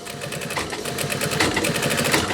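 A sewing machine double-stitches the sleeve opening of a denim jacket, running in a fast, steady, close mechanical rattle with a rising rhythm and no pauses.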